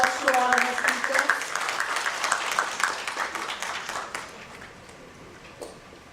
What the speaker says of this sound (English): So a big round of applause to all the speakers.